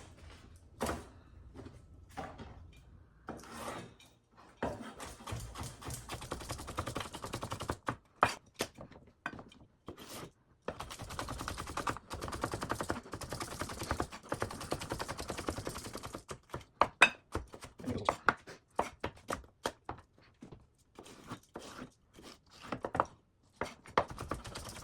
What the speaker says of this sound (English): Let's cut some vegetables.